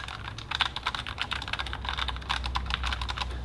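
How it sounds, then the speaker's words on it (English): Steady typing on a Logitech MX Mechanical Mini keyboard, close and crisp, with rapid clicky keystrokes in an even rhythm and no voices. "Let me just pop it down and I'll just type for 20 seconds."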